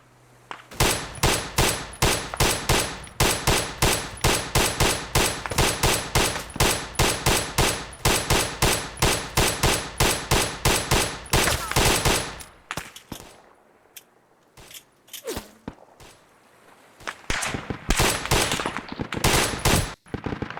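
Rapid bursts of submachine gun fire in a 1960s Argentina campaign video game, loud, repeated volleys for about twelve seconds, then sparser scattered shots with a brief pause before more firing resumes.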